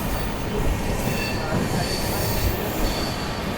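The Shraddha Sethu SF Express speeds through Chennai's suburban stretch past platforms, giving a loud sustained roar with high wheel squeal riding over the rumble throughout.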